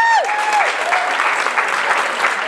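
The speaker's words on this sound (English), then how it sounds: "Big round of applause." Convention crowd at a panel for The Crow applauding the guests: loud, dense, sustained clapping filling the whole stretch, with a brief descending tonal sweep at the start.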